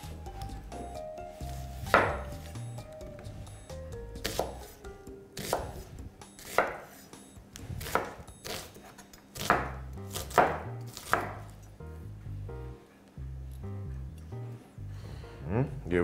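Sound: chopping onion with a knife

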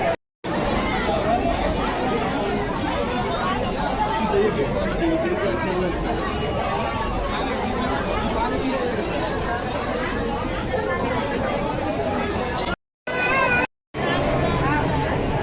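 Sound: large crowd chattering in temple queue

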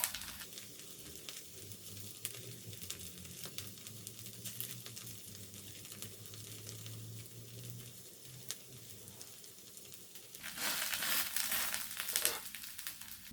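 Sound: onion sprinkled into a hot frying pan

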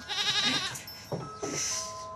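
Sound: goat bleating

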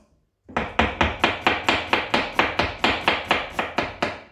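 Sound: knife cutting ginger into fine strips on a board

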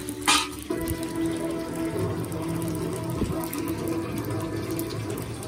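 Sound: filling water from a tap

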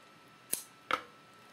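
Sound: scissors cutting paper

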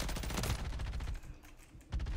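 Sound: gunfire in a video game

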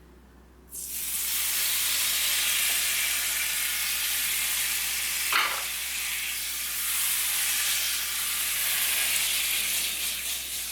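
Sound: hot tempering poured into mango egg curry, sizzling

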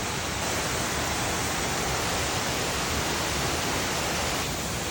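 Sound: waterfall

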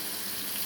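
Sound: water being poured into a cooking pan

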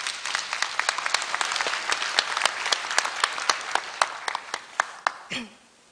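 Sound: audience applause at graduation ceremony

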